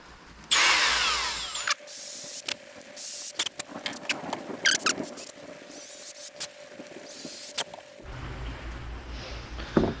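A power drill bores holes in parts for a budget turbo small-block C3 Corvette, loud whining bursts that start, stop and restart irregularly with short pauses between, close up, ending in a softer background hum.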